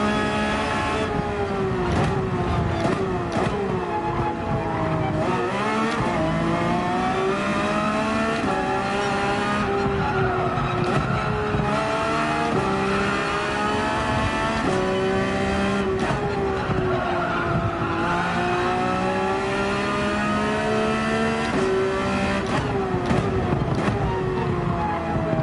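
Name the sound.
V8 Lexus race car engine in Gran Turismo 7 video game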